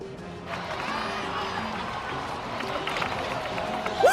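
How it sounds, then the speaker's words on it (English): Crowd applause and cheering in the Genshin Impact game, a steady dense wash of clapping that holds for several seconds at moderate loudness. "Let's give a huge round of applause to our brave young warrior, Kachina!"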